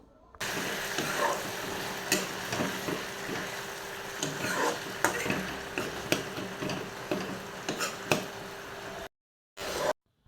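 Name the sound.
potatoes and greens frying and being stirred in a pan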